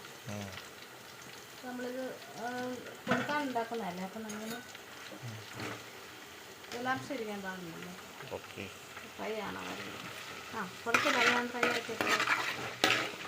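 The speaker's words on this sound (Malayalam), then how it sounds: "അപ്പൊ ഇത് നമ്മള് നല്ലപോലെ വാറ്റിയെടുക്കും അല്ലേ പച്ചപ്പ് മാറുന്ന വരെ നമ്മളിത് വാറ്റിയെടുക്കും" Garlic and curry leaves sauté in hot oil for a Kerala-style mango pickle, a steady sizzle with stirring scrapes running throughout while someone talks over it at close range.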